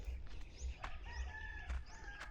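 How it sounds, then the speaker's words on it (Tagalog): Chickens on a rural walk cluck and crow, faint and somewhat distant, with drawn-out crowing calls and short clucks over quiet outdoor background noise. "Ayun yung mga manok."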